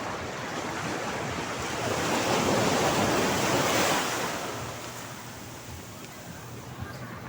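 Ocean surf rolls in with a steady wash, swelling and then fading, with wind buffeting the microphone.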